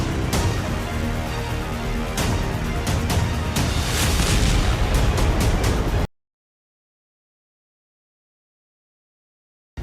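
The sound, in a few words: explosion destroying a Russian aircraft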